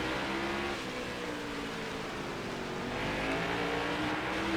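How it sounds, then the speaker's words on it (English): A NASCAR Next Gen race car engine in the video game NASCAR Heat 5 roars steadily and loudly on a road course, its pitch holding high with a slight rise near the end, with no voices. "Beautiful sound from this car"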